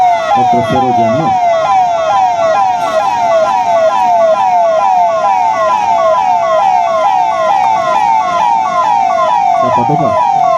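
Ambulance from the Jalna district hospital sounds its wailing electronic siren continuously through a state formation day parade, loud and close, with a brief low horn or engine burst at the start and end.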